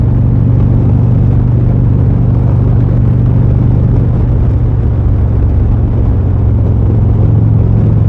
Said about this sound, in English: J75 engine's got a nice, sweet sound to it.